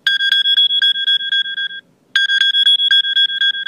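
The iPhone Find My iPhone alert played through iCloud: loud, clear repeating electronic pings in quick rhythmic pulses, pausing briefly before starting again.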